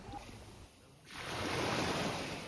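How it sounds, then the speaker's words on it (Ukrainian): Sea waves washing onto a beach in Chornomorsk, a soft wash at first that swells into a loud, steady rush of surf with some wind noise, no voices. "Ось так на цей час виглядає цей пляж у Чорноморську."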